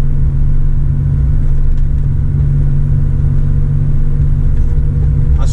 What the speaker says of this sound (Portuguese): Acionando o freio motor novamente